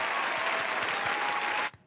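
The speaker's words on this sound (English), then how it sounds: "Matt, can we get some clapping just for that?" Brief, dense applause from a small group on a round-table talk show, steady and close with audible individual claps, then cutting off sharply near the end.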